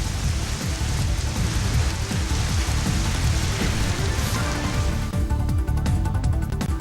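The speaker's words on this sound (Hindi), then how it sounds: "मुगलसराय में आंधी के साथ मूसलाधार बारिश।" Torrential rain lashes down during a storm in Mughalsarai, a steady, dense roar of downpour with drops pattering on surfaces throughout, loud and unbroken, with no one speaking.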